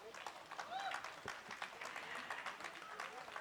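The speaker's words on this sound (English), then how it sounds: "for this he deserves a much larger round of applause" Applause from an audience, a steady patter of many hands clapping with some voices mixed in.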